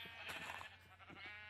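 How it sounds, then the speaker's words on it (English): A black sheep in Minecraft bleats once, a short wavering bleat followed by a fainter second call, quiet and heard alone. "we got a black sheep here I've been testing on"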